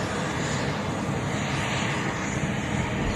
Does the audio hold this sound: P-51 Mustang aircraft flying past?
yes